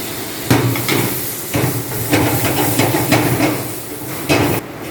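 Celery and onion hit a hot pan of golden garlic, giving a loud, steady sizzle with sharp clatters and bursts as the vegetables are stirred and tossed, close and without talk.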